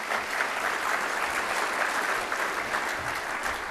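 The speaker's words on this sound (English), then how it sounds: "So a round of applause for ProVendor." A breakfast audience applauding a sponsor, ProVendor: a continuous dense roar of many people clapping at once, steady and fairly loud throughout with no talk over it.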